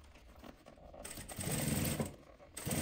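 Sewing machine stitching bias binding onto the inside of a fabric travel pouch, a close, continuous mechanical whir of the needle running in steady bursts that speed up and ease off.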